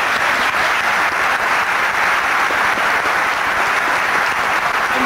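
Studio audience applause during a 1997 television interview: a steady, dense wash of many hands clapping, loud and unbroken for about five seconds with no talking over it.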